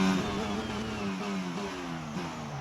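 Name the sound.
Red Bull engine whine of a race car in the video game F1 22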